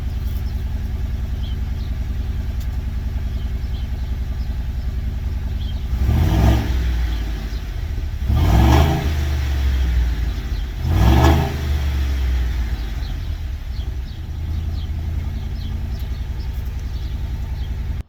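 Ford F-250 Super Duty pickup with the 7.3 Godzilla engine rumbles at a steady idle, then is revved three times in quick succession, each rev a loud, brief surge before it settles back to idle.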